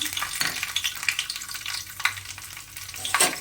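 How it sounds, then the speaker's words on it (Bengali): Dry red chilli, nigella seeds and garlic sizzle in hot mustard oil in a frying pan, a close, continuous crackle with scattered spatters and a few scraping stirs, no voices. "ফ্রাই প্যানে দিয়েছি সর্ষের তেল দিয়ে দিচ্ছি একটা শুকনো লঙ্কা কালো জিরা রসুন"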